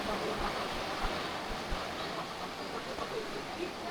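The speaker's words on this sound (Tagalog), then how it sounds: "malakas yung agos nito" Strong current of spring water rushing at a resort in Dagami, Leyte, a steady broadband wash with no pauses, close and fairly loud throughout.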